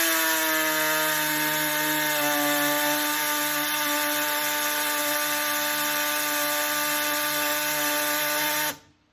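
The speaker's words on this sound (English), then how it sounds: "I'll cut for a couple of, whatever, couple inches here to give you an idea of how this goes" A power tool driven by an air compressor cuts through a car trunk panel, a steady, loud, tonal whine that runs unbroken for nearly nine seconds, then stops abruptly.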